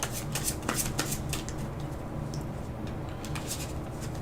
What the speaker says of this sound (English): We shuffle them up.